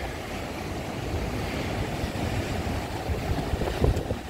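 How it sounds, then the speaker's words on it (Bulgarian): Strong, steady wind buffets the microphone in a continuous low roar, with gusts swelling near the end. "Вятъра е много силен."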